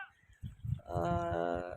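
A breeding buck goat on a farm lets out a sustained, close bleat after a few soft shuffling and rustling noises.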